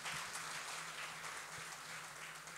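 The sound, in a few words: applause for the Cavaliers rugby team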